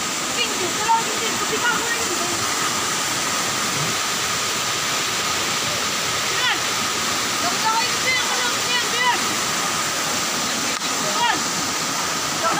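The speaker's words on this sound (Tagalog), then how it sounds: "This is an Agio Falls." Agiw Falls in Barangay Malidong Gamay, Northern Samar, roars as a steady, dense rush of falling water, close and loud, with no break in the wash of sound.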